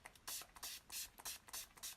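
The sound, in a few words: spraying a makeup setting spray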